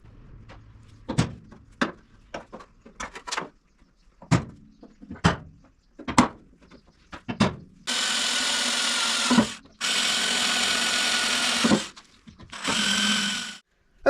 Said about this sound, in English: on the inside you can see the holes there that I've just drilled